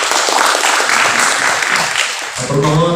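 Sustained applause from a seated audience at a discussion forum with the chairman of Indonesia's parliamentary Commission II in Senayan, steady and dense, with a few voices rising near the end.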